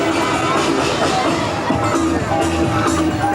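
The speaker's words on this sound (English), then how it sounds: "As the crowds gather for the procession of the floats" A crowd gathers at a carnival float procession in Greece, a dense outdoor hubbub of many voices chattering and calling at close range with no pauses.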